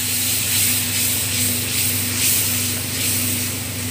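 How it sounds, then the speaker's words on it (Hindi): Spiced curry masala for Rajasthani besan gatte cooking in a pan, giving a steady close sizzling hiss with slight pulsing, alone and without talk. "ये अपनी सब्ज़ी पकने लग गई है"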